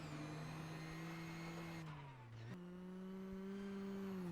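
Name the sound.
rally car passing through a stage at Rally Finland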